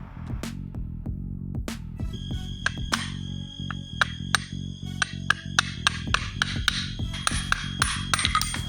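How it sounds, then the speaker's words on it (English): Handsaw cutting a notch in the outer race of a worn differential bushing on a BMW E36 325i, with rhythmic rasping metal-on-metal strokes speeding up into quick repeated scrapes, close and clear with no talking. "we're gonna use a handsaw and cut a notch in the outer race in order to remove it easily."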